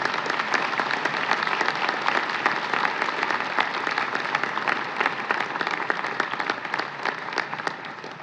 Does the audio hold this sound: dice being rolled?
no